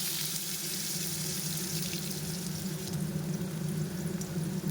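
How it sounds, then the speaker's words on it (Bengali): Potatoes frying in oil with chilli and poppy seeds give a steady, continuous sizzle close by, with constant low hum, without a voice. "একটু ভেজে নেবো আলুটা"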